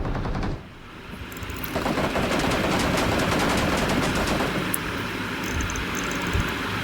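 Sustained rapid gunfire in the battle royale game BGMI, a dense, unbroken rattle of automatic shots that stays loud for several seconds after a brief quieter moment at the start.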